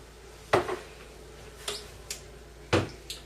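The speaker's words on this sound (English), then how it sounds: "So let's get out this small bowl." A small bowl being taken out and set down in a kitchen, a few sharp ceramic knocks and clinks spaced irregularly, close by and without speech.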